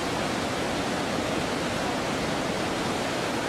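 A large South American waterfall roars as a steady, dense broadband rush of falling water, loud and unbroken throughout with no voices.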